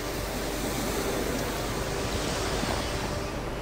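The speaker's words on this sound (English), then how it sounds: "There's an energy in the wind and the waves that just goes through your body and mind" Ocean waves and wind along the Big Sur shore in California make a loud, continuous broadband roar of surf with wind buffeting, steady throughout and with no voices.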